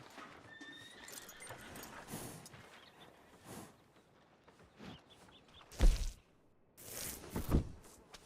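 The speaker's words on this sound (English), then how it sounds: "Are you gonna mount that new horse of yours or not?" Horse hooves clop at a slow walk in the video game Red Dead Redemption 2, with snorts and a loud whinny breaking in near the end, close by.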